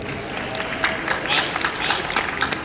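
Steady applause from a convention panel audience at San Diego Comic-Con 2022, a dense wash of clapping that holds evenly throughout with faint crowd murmur mixed in.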